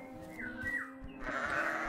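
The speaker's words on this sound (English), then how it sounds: "There's sheep of all different colors." Sheep bleating in a video game sheep pen, a couple of clear, fairly close wavering bleats heard alone against quiet background.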